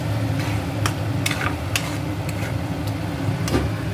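Finely chopped onions, with cardamom already in the pan, softening in oil with a low steady sizzle and occasional scraping stirs, near and moderate.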